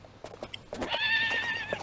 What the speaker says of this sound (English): Look, a horse is running over there.